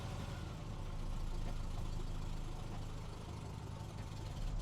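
Engine of a Toyota-swapped Ram 50 pickup running and struggling to idle on its own, a steady, rough low rumble heard close up with no talk, its level wavering slightly.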